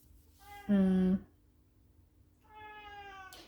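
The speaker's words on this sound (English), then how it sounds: "I'm sorry about my cat, but he's going crazy right now because he wants me to pay attention to him" A house cat meows twice indoors, a loud, insistent meow followed after a pause by a longer, softer one, close by with no talking.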